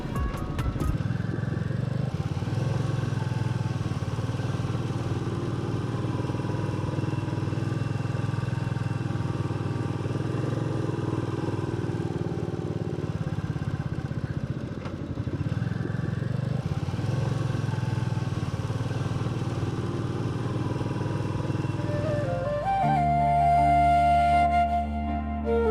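Motorcycle ridden along a rough, broken Konkan road, its engine droning steadily up close with surges and dips in pitch, ending in a louder rev near the finish.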